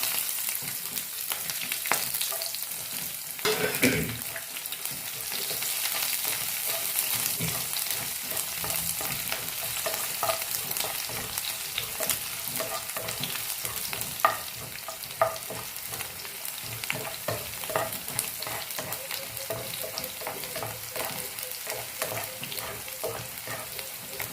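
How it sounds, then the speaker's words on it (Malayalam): Mustard seeds, dried red chillies, shallots and curry leaves sizzle and crackle in hot coconut oil, a steady close frying hiss with popping and occasional stirring scrapes throughout, no voices. "ഇനിയിപ്പം പാത്രത്തിലെ ചൂടായ വെളിച്ചെണ്ണയിലേക്ക് കടുകിട്ട് കൊടുക്കാം കൂടെ തന്നെ വറ്റൽമുളകും ചെറിയ ഉള്ളിയും കറിവേപ്പിലയും കൂടെ ഇട്ട് കൊടുക്കാം"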